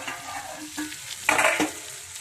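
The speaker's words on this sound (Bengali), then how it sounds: "পেঁয়াজটা ততক্ষণ ভাজা হয়েছে কিনা দেখে নেবো।" Onions frying in a pan for an egg dish, giving a soft steady sizzle with a couple of brief louder stirring scrapes, close and without talk.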